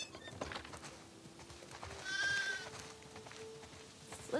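Farm sheep in the video game The Last of Us Part II bleat once or twice, fairly faint, over a quiet outdoor ambience with a soft background drone and no talking.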